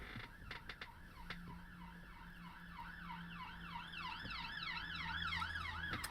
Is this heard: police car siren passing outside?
yes